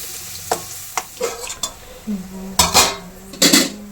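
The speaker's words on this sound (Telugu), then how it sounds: "ఇప్పుడైతే ఉల్లిపాయలు మనకి మంచిగా వేగిపోయినాయండి" Onions frying in a pan, with a soft sizzle under a run of sharp spoon scrapes and metallic clinks against the pan, close and fairly loud.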